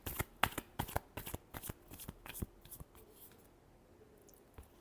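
A deck of tarot cards being shuffled close up, with a quick series of crisp riffling snaps that slows and fades into softer, sparse handling at the end.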